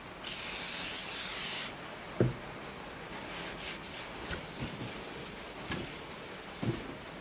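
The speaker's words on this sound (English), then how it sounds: "you get brake clean. They do come with a protective coating on them so they don't rust when they're at the warehouse." Brake cleaner sprays in a steady hiss for over a second onto new brake rotors during a front brake job on a GMC Acadia, followed by faint knocks and scattered handling clicks.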